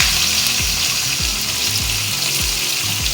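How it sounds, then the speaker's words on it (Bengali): Chopped onion sizzling in hot oil with whole peppercorns, cloves, cardamom, dried red chillies and bay leaf for a mutton and potato curry, a loud steady hiss with regular scraping stirs throughout, no talking. "এখন আমি কুচানো পেঁয়াজ দিয়ে দিলাম"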